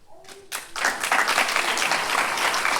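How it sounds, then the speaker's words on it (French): A theatre audience bursts into applause after brief speech, the clapping swelling sharply and holding as a thick, sustained roar of hands from a full house. "Ils applaudissent, ils sont contaminés."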